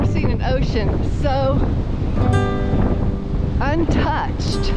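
Strong wind buffeting the microphone on a Cumberland Island, Georgia beach, with ocean surf rolling underneath and people talking over the steady roar.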